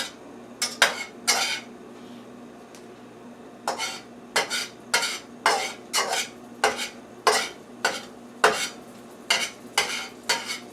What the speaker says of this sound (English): I'm taking my spatula and shaping it into a round shape.